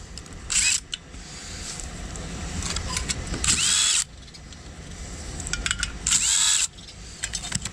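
Power tool removing 10mm valve cover bolts on a ride-on mower, three short loud bursts of high-pitched whirring separated by quieter handling noise, close by.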